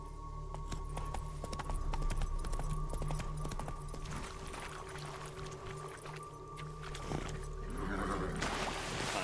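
Horse hooves clip-clopping in The Witcher 3, a quiet steady gallop-like patter under game ambience and a low hum, with splashy noise toward the end.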